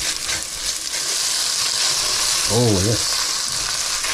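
Garlic frying in a pan: a constant, close sizzling hiss fills the whole stretch, with a short spoken remark over it near the middle.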